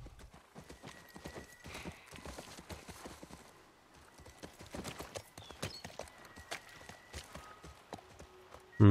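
Steady clip-clop of horse hooves walking at an even pace in the video game The Last of Us Part I, with a short snort or whinny and faint background noise, ending in a sudden thump.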